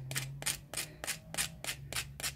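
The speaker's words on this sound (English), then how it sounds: "keeping your cabochon and your sandpaper on an even angle" Hand sanding of a resin cabochon on sandpaper: about eight rhythmic rasping strokes in quick succession, close and fairly loud, with a faint hum between strokes and no speech.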